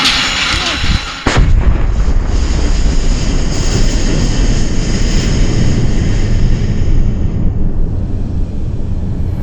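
A single loud artillery blast near the start, followed by a long rolling rumble and echo that slowly fades.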